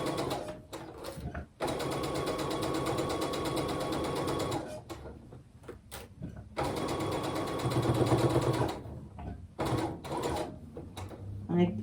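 A home sewing machine stitches the final seam of a quilt block through thick seam intersections, with two long bursts of fast, loud whirring split by brief pauses and clicks, and a person talks over it.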